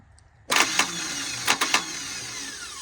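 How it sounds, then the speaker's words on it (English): A brand-new starter motor on a seized Dodge Charger engine whirs into a free-spinning whine after a sudden engagement, with a few sharp clunks partway through, close and steady without cranking the engine over. "It just free spins. It's a brand new starter."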